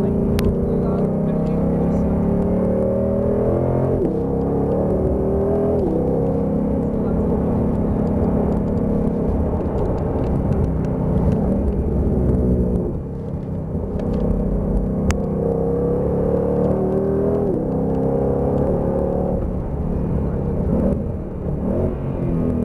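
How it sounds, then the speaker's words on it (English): Ford Mustang GT500 V8 engine rumbles loud and close throughout, its revs rising and dipping as the gears shift. "One thing I love about this car is the shifting noise."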